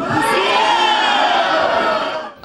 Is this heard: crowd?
yes